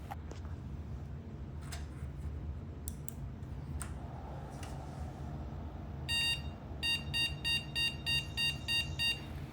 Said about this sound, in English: I think that's the no video card detected post beep, so not a good sign so far.